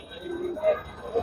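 Pigeon cooing at a bird market in Mirpur, where frizzle-necked pigeons are shown for sale; two short soft coos rise out of a murmur of background voices and market noise.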